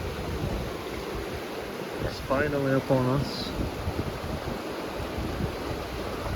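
River water flows at the bottom of a canyon in Kazakhstan, a steady broad rushing hiss heard throughout. A person speaks briefly over it partway through.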